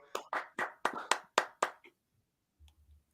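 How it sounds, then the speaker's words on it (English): Seven crisp hand claps in an even rhythm from a single person, close and clear, followed by near silence and a faint low rumble. "everyone, round of applause for Whit"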